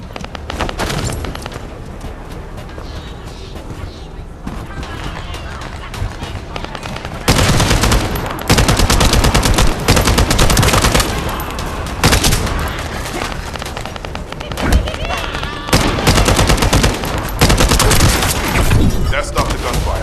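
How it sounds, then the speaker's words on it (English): Gunfire in the sci-fi shooter The First Descendant, with sustained bursts of rapid automatic shots that come in loud, dense volleys, pause briefly, then resume and continue hard through to the end. "That stopped the gunfire."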